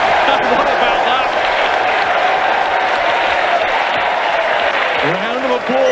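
Crowd at a professional rugby union match between Harlequins and Cardiff Rugby applauds and cheers after a try, a steady, dense roar of clapping and voices filling the stadium for the whole stretch without letting up.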